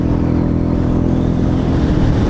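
Royal Enfield Meteor motorcycle running at wide-open throttle on a road ride, a steady, loud low engine drone with constant wind rush and no break.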